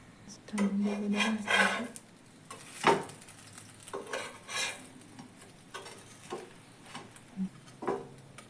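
Sandwich bread frying in oil in a pan on a low gas flame, with soft sizzling and intermittent scraping and shuffling of a spatula, fairly quiet and close.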